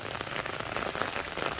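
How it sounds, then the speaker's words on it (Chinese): Steady rain falls over a fruit orchard in a hot climate, a dense, even hiss of drops on surfaces continuing without break at moderate loudness, with no voices. "其实这场下雨的就是挺及时的"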